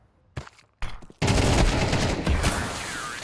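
MP9 and AK rifle gunfire in a Counter-Strike match, a couple of isolated shots followed by a loud, sustained burst of rapid automatic fire close by.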